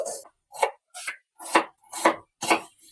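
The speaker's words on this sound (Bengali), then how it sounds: "পেঁয়াজটা একটু ছোট ছোট করে কাটবো" Knife chopping medium-sized onions into small pieces on a cutting board, six distinct crisp cuts in a steady rhythm, close and clear with no talking.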